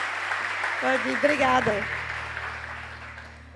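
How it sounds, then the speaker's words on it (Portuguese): A church congregation at a couples' service applauds, the clapping strongest at first and gradually fading, while someone speaks briefly over it and a low tone hums underneath. "Você pode aplaudir ao Senhor."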